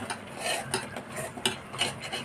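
A spoon scrapes and clinks against a pot while stirring spicy patwadi rassa curry, several short uneven strokes at close range with a faint sizzle beneath.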